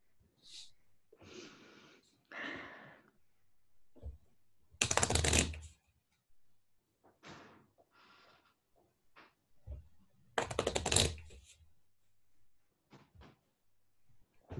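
Gloomhaven game cards being shuffled by hand, two crisp riffling bursts a few seconds apart, with soft handling clicks and card taps in between and no talking.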